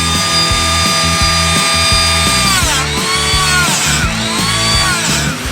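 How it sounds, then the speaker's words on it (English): A Dremel tool fitted with a small sanding disc grinds a boat chainplate, making a loud, close, continuous high-pitched whine that dips and rises in pitch as the disc bites into the metal. "he suggested that we try this Dremel tool"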